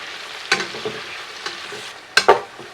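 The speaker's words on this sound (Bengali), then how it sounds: "এই যে পেঁয়াজ ছিল সে পেঁয়াজগুলোকে অ্যাড করে দিচ্ছি।" Onions sizzle in a large cooking pot as they fry, with a few sharp scrapes of a spoon stirring them at irregular intervals over a steady hiss.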